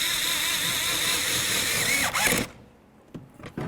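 A power tool whirs steadily as it snugs up the door latch bolts on a 2007-14 Ford Edge, holding for over two seconds before stopping, followed by a few soft clicks and handling noises.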